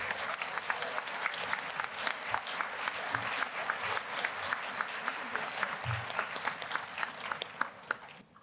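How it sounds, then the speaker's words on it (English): Sustained applause from a convention audience at a keynote panel session, dense steady clapping with a few sharper claps standing out, continuing alone for several seconds before thinning at the end. "Let's give them another round of applause."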